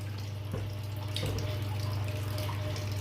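Coconut milk pours steadily into a container while pandan khanom thuay cups are being made, a continuous liquid rush over a low electrical hum, close and unbroken throughout, with no talking.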